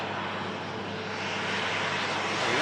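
An airliner taxis at an airport, its engines producing a broad, steady roar that holds at a fairly loud level and swells slightly toward the end, with no voices over it.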